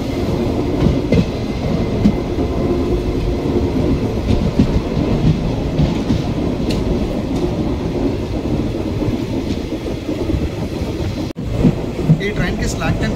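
An Intercity Express passenger train runs on the rails from Hyderabad during the monsoon. A loud, continuous rolling rumble with rattling carriages is heard from on board, with a brief jolt near the end.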